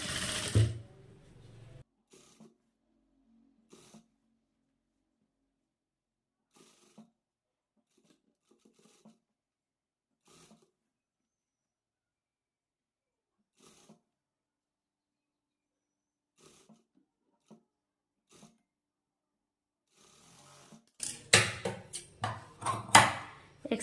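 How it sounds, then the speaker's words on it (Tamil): A sewing machine stitching cloth for a nightie runs in short bursts at the start and again near the end, separated by a long quiet stretch with only faint scattered ticks. "கரெக்டாக ஒரு கால் இன்ச் அளவுக்கு மட்டும் தையல் வந்து போட்டுக்குங்க"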